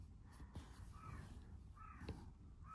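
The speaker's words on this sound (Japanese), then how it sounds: "カラスが聞こえてますかねカラスが鳴くな。" A crow caws a few times in the distance over quiet outdoor ambience.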